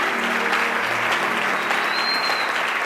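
A church congregation in Franceville claps and cheers together, steady dense applause filling the room from start to finish at a fairly close, even level.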